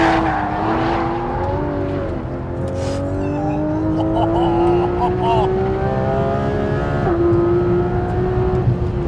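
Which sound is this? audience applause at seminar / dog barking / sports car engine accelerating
sports car engine accelerating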